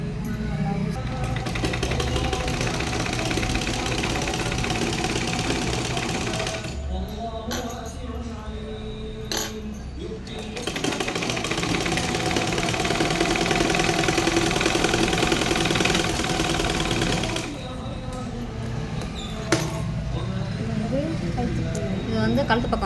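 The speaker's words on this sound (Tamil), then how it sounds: "இது வந்து கழுத்து பக்கம் ஒரு அரைஞ்சி தைச்சிருக்குறோம்" A sewing machine stitches the neckline of a lined blouse, its motor running in long, steady bursts with short pauses between seams, while a person talks throughout.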